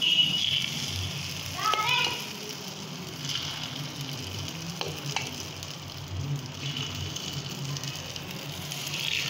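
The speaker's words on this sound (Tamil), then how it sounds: "இப்போ நம்ம பணியாரக்குழியில் ஊற்றிக்கலாம்" Egg paniyaram batter sizzles and crackles steadily in hot oil in the wells of a paniyaram pan, with occasional stirring clinks and children's voices and speech in the background.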